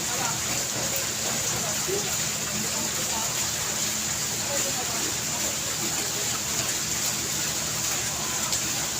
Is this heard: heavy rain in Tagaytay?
yes